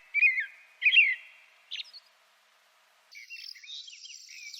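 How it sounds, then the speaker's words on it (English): Small birds chirp in two quick whistled bursts, followed by a short sharp call and then a thinner twittering trill, all close and clear against near silence. "Birds can breathe and chirp at the same time."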